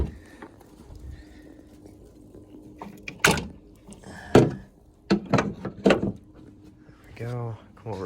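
Hood release on a Ford Focus being pulled and the hood popped open, heard as several sharp clunks and latch knocks close by, with someone talking quietly before the sounds.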